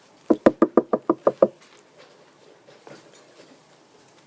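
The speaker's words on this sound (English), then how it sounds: "Just suddenly there was a knock at the door." A quick run of about eight sharp knocks on a door, close and distinct, followed by faint scattered sounds and then quiet.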